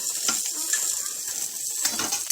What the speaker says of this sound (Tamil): 2 கத்திரிக்காய் எடுத்து அதை வந்து வதக்க போகிறோம்